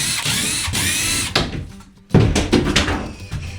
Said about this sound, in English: The good old right angle drill bit.